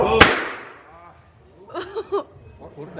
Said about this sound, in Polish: Petardy!